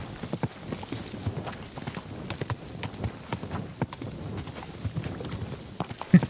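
Horse hooves clip-clop steadily in a fast, even rhythm on hard ground in the game Kingdom Come 2, a continuous run of light knocking beats at moderate distance.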